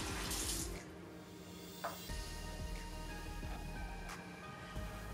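Water runs from a bathroom sink tap while a face is rinsed, a steady close splashing stream with brief louder gushes and small knocks.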